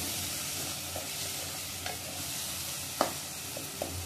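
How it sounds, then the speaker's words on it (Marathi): A spoon stirs a tomato and onion masala in a pan, scraping softly against the cooking oil's low, steady sizzle, with a few light clinks and one sharper knock against the metal. "हा मसाला जे तयार केले टोमॅटो वगैरे कांदा तेल सुटेपर्यंत टाकले ना मिक्स करून घ्यायचं."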